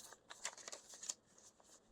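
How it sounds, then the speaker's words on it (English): A stack of paper money bills being shuffled by hand, giving quick, crisp papery riffles and flutters in short bursts at close range, with no talking. "I don't shuffle money all that often, but it's different than shuffling cards"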